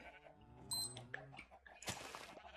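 Sheep bleating in the Minecraft video game, a short wavering bleat followed by another brighter one, close and moderately loud against quiet background game sounds.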